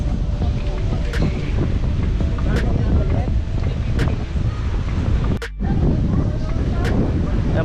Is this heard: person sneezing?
no